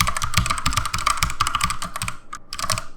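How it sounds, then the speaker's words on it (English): Steady, rapid keystrokes on a computer keyboard while entering a username, a dense run of close clicks with a brief pause near the end before typing resumes. "I'll type in the username."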